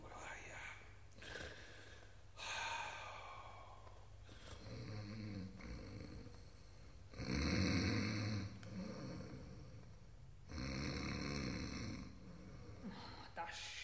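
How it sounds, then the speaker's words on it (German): Someone snores in a 1953 studio recording of Lehár's operetta The Merry Widow, slow loud breathy snores repeating in a steady rhythm with quieter stretches between, with faint voices in the background. "Da schnarcht ja einer."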